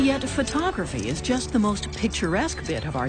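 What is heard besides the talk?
No everyday noise stands out behind the speech.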